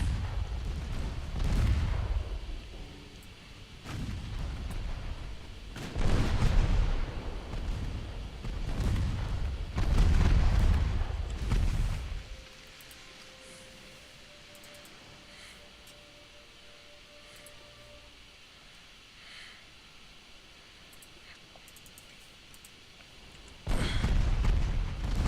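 Battleship main guns fire in Ultimate Admiral Dreadnoughts: a run of heavy, booming salvos comes in quick succession, then a long quiet stretch, then one more loud blast at the end.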